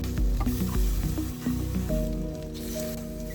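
Mushrooms frying in a pan make a steady sizzle alongside other kitchen noise, with no talking heard.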